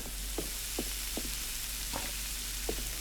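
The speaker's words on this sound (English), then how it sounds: "we just need to cook it, which means we need the frying pan" Food frying in a pan in the restaurant simulator game Chef Life, a steady sizzle with soft stirring scrapes recurring every half second or so, all at moderate level with no voices.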